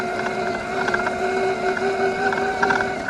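An Evoltrix X7 electric pit bike riding through grass, giving off a steady motor whine with layered mechanical hum and faint rattling, close and continuous with slight surges.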